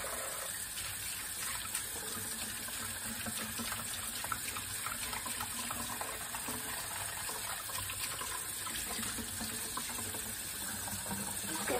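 Water running steadily from a tap into a sink, a continuous close hiss and splash with no talking over it.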